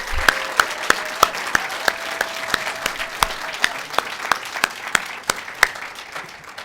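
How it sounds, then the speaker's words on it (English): An audience applauds honorees at an awards or recognition event, a steady wash of clapping from many hands with sharp individual claps standing out, sustained evenly throughout with no talking. "please join me in one other round of applause for our honorees"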